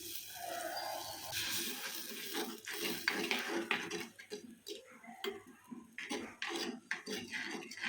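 Water is poured into a cooking pan of sautéed ingredients in a home kitchen, with a splashing rush amid clinks and taps of utensils and pan, close up.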